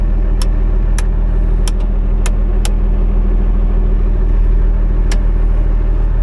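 A Komatsu WA180 wheel loader with a four-speed automatic transmission and about 8100 hours runs loudly as it drives off, a constant low diesel rumble with a few sharp metallic clanks over the top.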